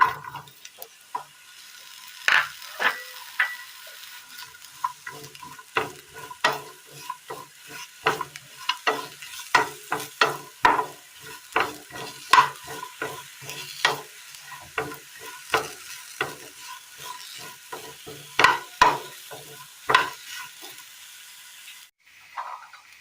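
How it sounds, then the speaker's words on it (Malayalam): Sliced bitter gourd frying in a pan for a Kerala curry, with a spoon stirring it in steady scraping strokes over a constant, close sizzle; no voices. "ഇതേ പാനിലേക്ക് നമ്മൾക്ക് അരിഞ്ഞു വെച്ചിരിക്കുന്ന പാവയ്ക്ക കൂടി ഇട്ട് കൊടുക്കാം"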